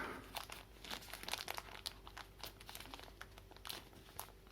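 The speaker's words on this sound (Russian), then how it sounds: "Так, открываем вот этот пакетик." A small plastic bag from a DJI Osmo Action camera box crinkles and rustles close by in irregular bursts as it is handled and opened, with no speech.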